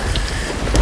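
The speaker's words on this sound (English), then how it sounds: "It's my lightning sound effect." A thunderstorm effect from a Nanlite PavoTube LED light in storm mode gives a brief wash of rain-like hiss with a low rumble, loud and close throughout.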